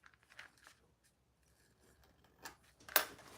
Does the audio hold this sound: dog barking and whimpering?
no